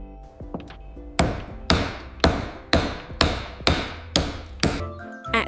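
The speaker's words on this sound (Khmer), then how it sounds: "ញញួរដំដែកគោល" A hammer drives a nail with eight sharp, evenly spaced strikes, each ringing briefly before the next, loud and close with nothing else around them.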